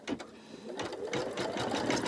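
An embroidery machine stitches a bunny table centre design, a steady mechanical whirring with rapid repeated needle strikes, fairly close and continuous throughout.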